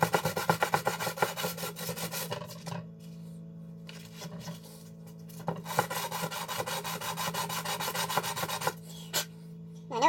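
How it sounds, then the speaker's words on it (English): Sandpaper rasps against threads on an aluminum lightsaber hilt, coming in close, rhythmic scrubbing strokes with short pauses between bursts, alone and fairly quiet. "Alright, back to the sandpaper."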